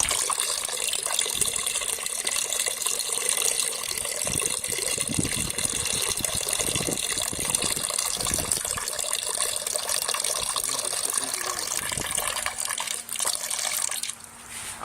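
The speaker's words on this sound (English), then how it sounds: "just in case the water is having a little trouble coming out" Water pours and splashes steadily out of a tilted container while making a gravity pipe, a continuous close gush with intermittent glugging bursts that tapers off near the end.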